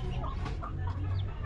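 Chickens clucking close by, overlapping short calls from several birds over a low steady hum.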